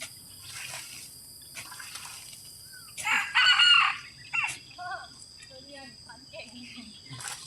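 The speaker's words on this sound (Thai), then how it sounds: "ไก่แจ้เลย" Bantam chicken outdoors crowing and clucking, with a loud burst of crowing in the middle followed by scattered short clucks, over a constant high hum of crickets and faint background voices.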